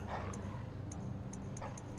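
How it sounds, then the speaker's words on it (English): Dogs from the game Bloodborne, with short yelping barks and whimpers under steady game noise and a few sharp high ticks, fairly quiet and brief. "I gotta, like, draw these dogs off one by one."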